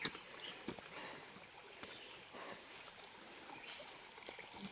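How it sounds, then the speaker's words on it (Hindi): Waterfall stream at a picnic spot near Jeypore, heard as a faint, soft flow of water with light splashes and trickles, with a few scattered knocks and distant sounds. "पानी से पानी में हाँ झरना पानी"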